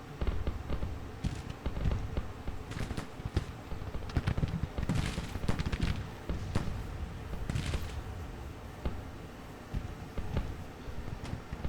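Civil War battle in a strategy game, dense volleys of cannon and musket fire crackling and booming continuously at mid distance, many overlapping reports with no pause.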